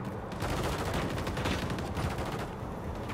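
Dense rapid gunfire in Call of Duty Modern Warfare 3 on a multiplayer map, a sustained rattling barrage of shots that swells and fades over a few seconds, loud and close with no talking.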